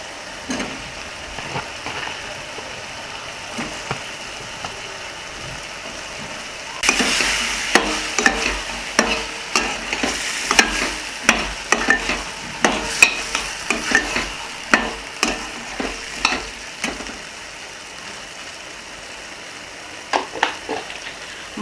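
Mushrooms sizzle steadily in a gravy in a wok-style pan. After a quieter start, a spoon scrapes and stirs in a regular rhythm of sharp clinks over the continuous frying hiss.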